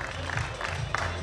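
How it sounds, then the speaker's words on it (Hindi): A crowd at a girls' bodybuilding competition in Chandigarh claps and cheers to welcome a competitor, steady applause heard briefly and somewhat distant. "जोरदार तालियों के साथ स्वागत किया जाए"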